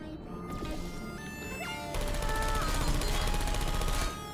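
Turret gunfire in Portal: rapid, close machine-gun rattling that swells into a dense sustained burst for about two seconds, with ringing electronic tones and a falling whine threaded through it.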